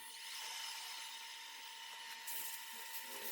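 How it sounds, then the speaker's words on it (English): A high-pitched rotary tool whines steadily as a round-headed carbide burr shapes a wooden Celtic knot carving, continuous and close, with no talking. "I'm using my round-headed carbide tool to make final shaping decisions here."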